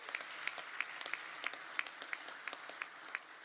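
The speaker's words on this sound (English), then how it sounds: "How about a round of applause for" Soft, distant applause from a conference audience at the Doral resort in Miami, a steady patter of many hands with scattered sharper claps, fairly faint and heard alone.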